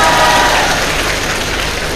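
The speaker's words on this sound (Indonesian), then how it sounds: "Tepuk tangan untuk Mas Tomli." Loud, dense applause from a large crowd, a continuous wash of clapping that stays steady throughout.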